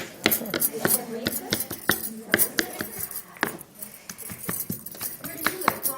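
A knife chops vegetables for salsa on a cutting board. Crisp, rapid, fairly even knocks repeat close by for six seconds.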